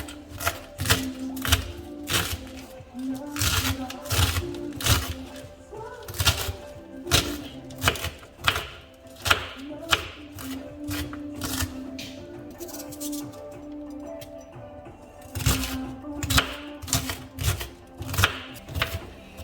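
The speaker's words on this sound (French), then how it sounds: "je découpe aussi par la même occasion le céleri" Rapid, irregular knife chops slice celery on a board in bursts, crisp and close, with short pauses between runs of cuts.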